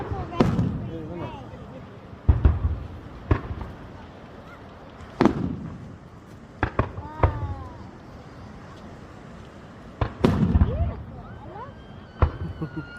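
Fireworks burst over Cromer in the United Kingdom, a string of loud, sharp bangs at irregular intervals, some with crackling tails, while people nearby chat between the blasts.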